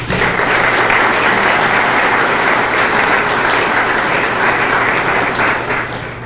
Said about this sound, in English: So please give everybody a round of applause.